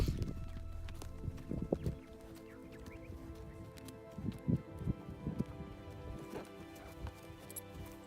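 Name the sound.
horse hooves clip-clopping in Mongolia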